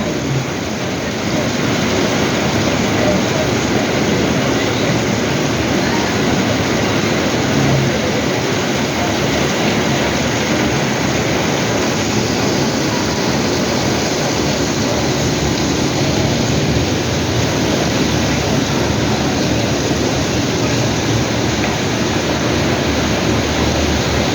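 Floodwater rushing through the streets of Valencia City in heavy rain, a loud, unbroken roar of water and rain that stays level throughout, with no voices.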